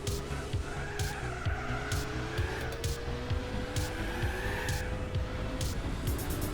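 Cars in the Gran Turismo 4 racing game, with a TVR striking the wall: a steady, loud engine drone and rhythmic low pulses run under squealing, scraping tyres that swell and fade throughout.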